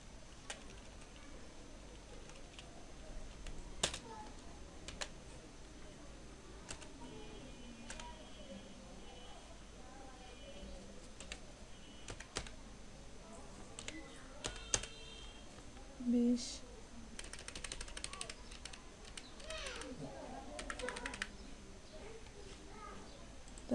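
Typing on a computer keyboard while filling in an invoice: quiet, irregular key clicks in short bursts with occasional mouse clicks, and a voice speaking softly over them.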